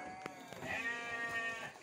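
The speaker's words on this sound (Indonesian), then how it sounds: "Lihat domba-domba yang sedang makan lahap." Sheep bleat during an evening feeding, a close, wavering bleat swelling over a second or so, with soft rustling of feed and animals around it.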